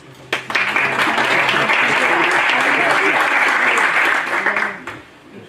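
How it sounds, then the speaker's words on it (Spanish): Applause from an audience at a financial innovation event starts abruptly, a dense, fairly loud round of clapping that holds steady for several seconds before dropping away. "Un aplauso."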